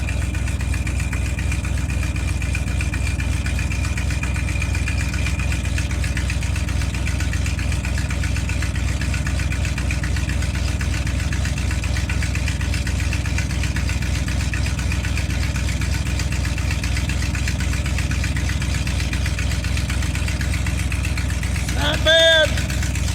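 A car engine idles steadily after a cold start at 30 degrees, a continuous low rumble that holds even throughout, with a brief sharper noise near the end.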